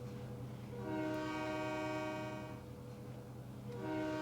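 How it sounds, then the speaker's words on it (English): A train's auto horn sounds two long, harmonic blasts, the second starting just before the end, over a steady low rumble of rail machinery. "Need to adjust those auto horns for sure."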